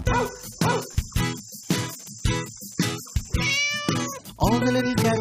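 A cat meows again and again, about a dozen short distinct cries in a quick uneven rhythm, close and loud, with no other sound between them.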